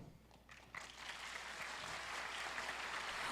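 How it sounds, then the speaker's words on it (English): Audience applause at an ASEAN conference in a hotel ballroom, starting with a few scattered claps and swelling into a steady, dense roar of clapping across a large room. "Once again, let's give a big round of applause to our presenters representing all Southeast Asian countries."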